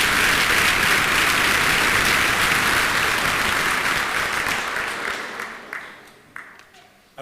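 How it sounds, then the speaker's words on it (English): Loud, dense applause fills a commencement hall, rolling steadily before thinning out into a few last scattered claps and quiet. "Let's have a round of applause, please."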